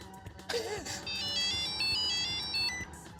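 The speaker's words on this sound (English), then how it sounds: "you can compose ringtones as well, of course." A self-composed ringtone plays from a 2G Y2K mobile phone, a thin monophonic melody of bright beeping notes lasting a few seconds after a brief button sound.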